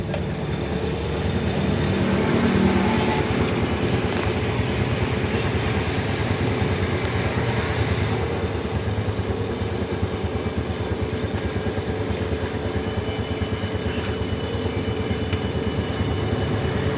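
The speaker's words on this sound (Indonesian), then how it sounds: "Saya gas sedikit ya." A motorcycle engine runs steadily at a low idle, its even rumble rising slightly when the throttle is briefly opened, close up in a repair workshop while the headlight is tested.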